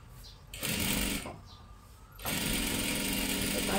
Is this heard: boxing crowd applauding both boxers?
no